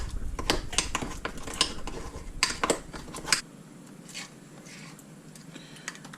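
Soft butter being stirred in a bowl, with repeated scraping clinks of a utensil against the dish over about three seconds, then a quieter stretch of light stirring.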